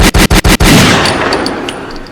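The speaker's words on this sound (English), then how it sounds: "Let's get a gunshot or some clap" Four sharp, loud gunshot-like bangs fire in quick succession at the start as a sound effect, followed by a fading ringing tail.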